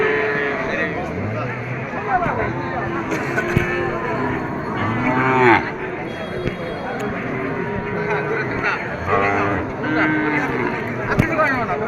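Cattle low and moo repeatedly at a crowded Bangladeshi cow market, loud and close, with several calls overlapping constant background chatter from traders and buyers.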